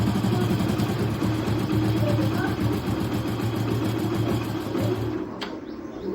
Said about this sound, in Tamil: இதை திருப்புற வண்டியோட சவுண்ட் அதிகரிக்குதா, அப்படியே ஸ்லோஸ் பண்ணுறேன்.